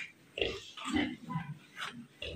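A sow grunts in a short series of close, low snorts and oinks, irregular and moderately quiet, with brief gaps between them.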